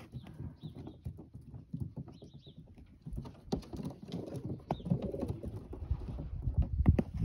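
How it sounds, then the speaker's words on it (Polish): Racing pigeons of the Janssen De Klak line give soft, low cooing calls with fluttering and pattering close by, in short irregular bursts. "Następny gołąb."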